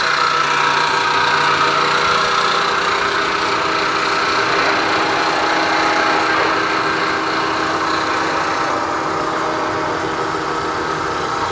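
A GMC precision gap bed engine lathe, model GT-26120, runs steadily with a continuous mechanical hum and whine, loud and close, with no talk.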